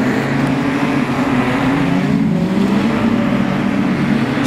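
Production sedan race cars roar past at a speedway in a heat race, a loud continuous engine drone with steady low-pitched hum and broadband noise throughout, no talk.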